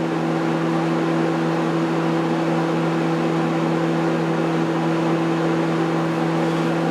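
A microwave oven runs with a continuous steady electrical hum and droning motor whir, unbroken throughout, even and fairly loud, with no voices.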